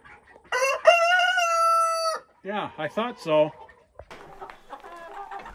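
Meat chickens cluck and crow close by, a long drawn-out crow followed by a quick run of clucks, with a person briefly speaking over them.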